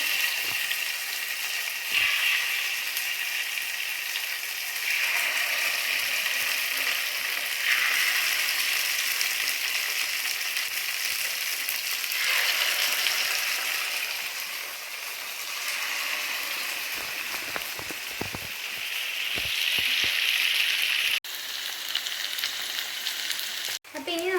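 Chicken pieces for pepper chicken fry sizzle in hot oil in a pan, a loud steady hiss and crackle that swells as each piece goes in and runs on throughout.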